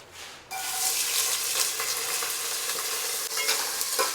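Onions drop into hot oil in a biryani pot and set off a loud, continuous sizzle that carries on steadily, with light stirring underneath.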